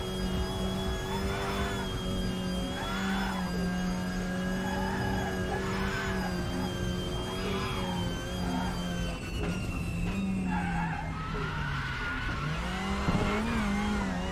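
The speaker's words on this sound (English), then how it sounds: "It sounds like a rally car" A rally car engine in the racing video game RaceRoom roars steadily, its pitch surging and dropping through repeated gear changes, with brief tire squeal near the end.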